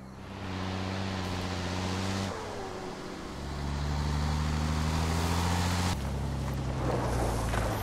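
A military vehicle engine idles and revs in Squad, a steady loud drone whose pitch shifts with throttle changes and carries on without a break, with no voices over it.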